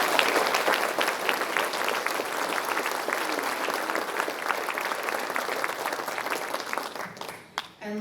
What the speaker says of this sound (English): we want to give a big round of applause because that is a huge achievement